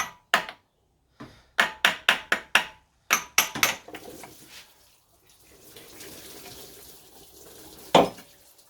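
A small hammer taps out sharp metallic blows in quick bursts on a car water pump, then coolant trickles and drains faintly, followed by one more sharp knock.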